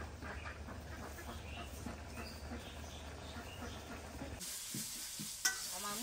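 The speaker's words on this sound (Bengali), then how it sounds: "আমার মশলা কষাই শেষ" Spices being stir-fried in a pan for a water lily and hilsa curry, giving a steady close sizzle with scraping stirs that stops abruptly near the end, followed by a sharp clink and some faint background noise.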